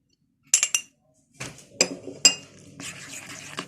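A spoon clinks against a bowl while stirring a fish marinade of chili paste, salt, cumin and garlic, giving several sharp clinks and scrapes in short bursts, fairly close and with no talk.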